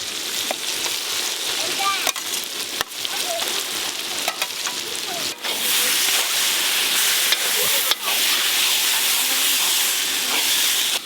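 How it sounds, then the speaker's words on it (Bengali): Onion frying with ginger and garlic in a pan gives a steady hiss and sizzle, with a few sharp knocks from stirring and a louder, brighter hiss in the second half. A voice is faint underneath. "এবার পেঁয়াজের সঙ্গে আদা রসুনের কাঁচা গন্ধ যতক্ষণ না যায় ততক্ষণ ধরে ভেজে নেব"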